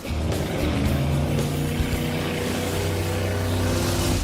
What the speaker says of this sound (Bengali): ওরা তো জলের মধ্যে ড্রিফট করছে